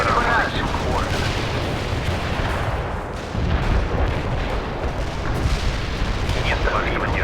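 Heavy artillery barrage in the World in Conflict video game, a dense continuous rumble of booms and blasts with scattered sharper reports, loud and sustained throughout, with radio-style voices talking over it.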